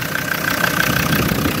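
A truck fitted with a Rhino winch and bumper idles steadily at close range, a loud, even low rumble with a faint knocking beat and no talking.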